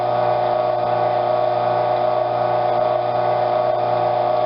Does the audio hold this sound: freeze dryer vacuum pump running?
yes